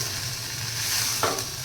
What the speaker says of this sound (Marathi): सर्व फोडणी आपण या सुकटला